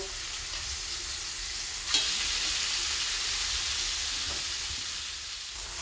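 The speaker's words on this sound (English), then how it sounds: "You can hear it sizzle." Steady, loud sizzling of steak frying in a hot pan, a continuous hiss with a brief clatter partway through and no talking.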